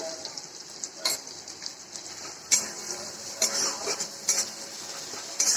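Chili powder and a little turmeric powder fry in a pan with a soft continuous sizzle, broken by several sharp clinks and scrapes of a spoon stirring against the metal.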